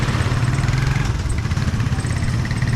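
Motor tricycles pass by in steady traffic, a continuous low engine rumble and buzzing drone that stays loud and close throughout, with no talking.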